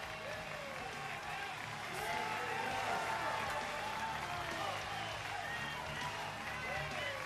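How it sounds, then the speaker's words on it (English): A crowd at a World's Strongest Man under-105 kg event urges on a competitor, a continuous roar of cheering and clapping that swells midway, under a commentator's voice. "Crowd egging him on here."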